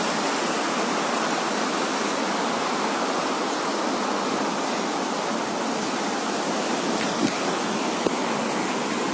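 Floodwater in Gujarat rushes around a damaged house in a constant, loud roar of broadband noise that holds steady from start to finish, with no voices.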